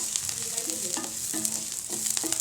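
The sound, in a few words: sautéing onion, garlic, mint and curry leaves in pan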